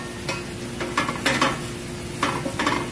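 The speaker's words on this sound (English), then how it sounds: "I'm going to go ahead and put the rest of my onions in. So now it's just a matter of just wilting down all my vegetables." Onions and vegetables for Singapore noodles are stirred in a hot pan. Steady sizzling is broken by several scraping, clattering strokes of the utensil against the pan, heard up close without talk.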